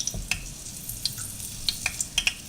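Breaded cube steak frying in a pan for country fried steak, a soft, steady sizzle with several sharp utensil clicks and pops spaced through the short span, close, with no talk.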